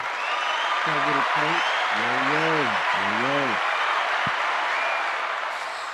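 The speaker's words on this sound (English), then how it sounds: "let's give them a round of applause" Crowd applause at a boxing event, dense, steady clapping that fills the whole stretch, loud and close, while a voice speaks briefly over it in the middle.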